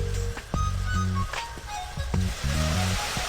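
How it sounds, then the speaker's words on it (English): Cartoon cooking scene of minced onion, ginger and garlic frying in oil, with a steady sizzle running under bright, repeated musical tones and stirring clatter. "Fry the ingredients."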